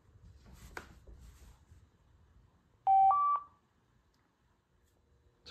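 A car phone hands-free system beeps as it powers on with the ignition switch: one short, loud two-tone electronic beep stepping up in pitch, alone after quiet handling noises.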